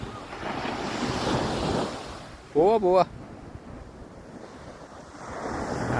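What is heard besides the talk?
sea waves on the beach, with wind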